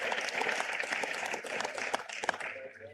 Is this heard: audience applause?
yes